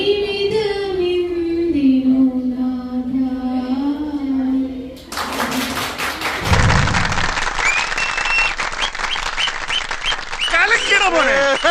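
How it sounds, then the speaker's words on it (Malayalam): Audience applause at a Christmas celebration in Kollam: a voice carries on over a steady background before a broad wash of clapping breaks out halfway through and continues among cheers and talk. "കയ്യടി മുഴുവൻ തീർക്കണ്ട"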